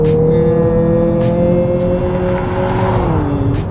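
A 2023 Mazda CX-50 turbo on premium fuel accelerates hard, its engine note rising loudly and steadily as the front wheels spin, close and without talk.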